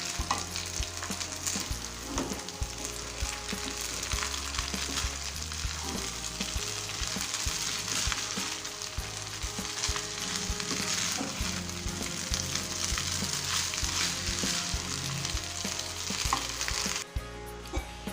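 Food frying in a pan while being stirred, giving a loud, steady sizzle that runs unbroken throughout, with no voices.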